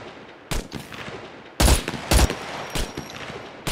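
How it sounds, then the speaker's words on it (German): Gunfire in the survival game SCUM: several sharp, loud shot bursts spaced irregularly over a few seconds, with quieter ambient game noise between them. "Die schießen Tim in den Kopf, in die treffen jetzt"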